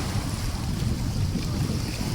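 Sea waves along a shore beside a dike, a continuous broad rushing wash with heavy low-end rumble that sounds windy and close, with no talk.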